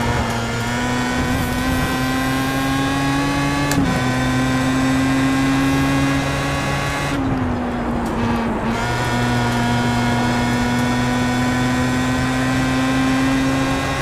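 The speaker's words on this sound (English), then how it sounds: "The engine just sounds so much better too, compared to the fairly average sounding four-cylinder engines. That rotary screaming" Pro Mazda race car with a rotary engine screaming around Brands Hatch, a loud high-pitched sustained wail heard from onboard, with a couple of quick gear changes and a brief lift and dip midway.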